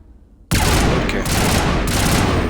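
Sustained gunfire in the Mass Effect video game, a dense burst that starts abruptly and continues loud and steady as a continuous volley of rapid shots during combat.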